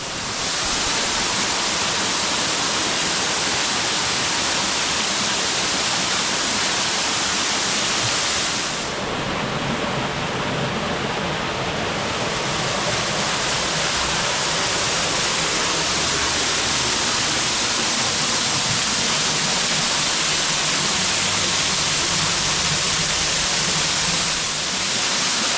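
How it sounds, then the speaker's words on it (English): A waterfall in Neath, Wales roars with a steady, dense rush of falling water, close and loud throughout, with a brief dip in the upper hiss partway through and no voices. "so I might as well film the waterfall."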